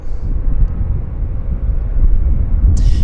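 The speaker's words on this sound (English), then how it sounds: "Another WestJet. WestJet number 2 climbing out." A WestJet airliner climbs out after takeoff at Vancouver airport, a broad, steady jet roar from a distance that swells slightly toward the end, with no one talking.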